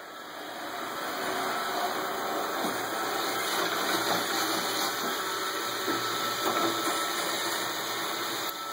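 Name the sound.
Roomba robot vacuum cleaner running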